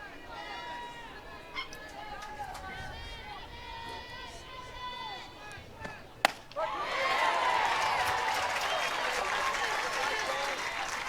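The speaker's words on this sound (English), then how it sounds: "the crowd, the faithful here at McCombs Field, stay loud and proud for quite a bit" A softball crowd at McCombs Field in Texas breaks into loud, sustained cheering and applause after a sharp crack, following a stretch of quieter chatter and scattered shouts.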